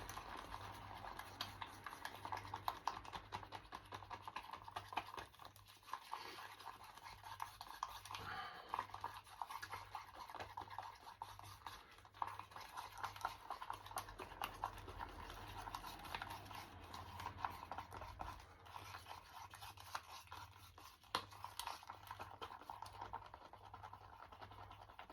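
Acrylic pouring paint gets stirred in a cup, a faint, continuous scraping with a steady rhythmic swish repeating for a long stretch, close and quiet.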